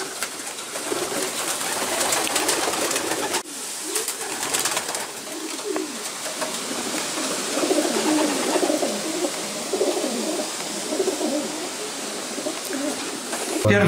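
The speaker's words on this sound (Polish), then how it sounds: "To jest drugie pomieszczenie gołębi rozpłodowych." Breeding pigeons coo continuously inside a loft aviary, with many overlapping soft, throaty calls and rustling over a steady background; the birds sound close and fill the space without talk.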